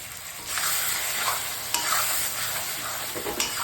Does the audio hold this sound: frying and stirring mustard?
yes